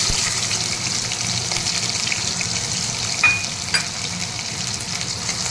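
Lengthwise-sliced onion frying in oil in a pan, a steady close sizzle with a couple of brief stirring clinks.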